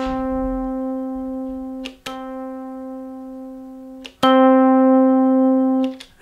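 An Elektron Digitone synth plays sustained tonal notes while an LFO modulates the amp volume, so each held note swells and dips. Three long notes are separated by short breaks, and the last one is louder.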